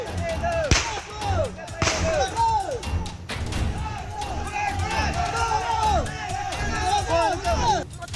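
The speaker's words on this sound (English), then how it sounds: "you can start with this gunfire" Several sharp gunshots crack out amid a noisy crowd of shouting voices, with loud bangs near the start and scattered reports throughout.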